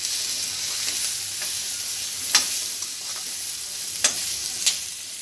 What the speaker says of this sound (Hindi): इन सबको मैं अच्छे से मिक्स कर लूँगी।